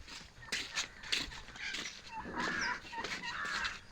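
Turkeys cluck and call in several bursts at Kasthuri Gardens, fairly close, with overlapping bird calls and a bit of background noise.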